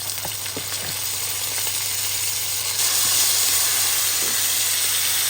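Onion paste sizzling in hot oil in a home kitchen pan, a steady broadband hiss that grows louder and brighter partway through, with a few faint clinks near the start.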